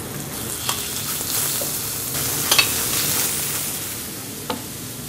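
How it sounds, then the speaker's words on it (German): Steady sizzling of chicken frying in a hot pan with a little oil, with a few sharp pops and scraping stirs over the continuous crackle. "jetzt wird in der Pfanne als erstes das Hähnchen angebraten. Das nur mit ein wenig Öl"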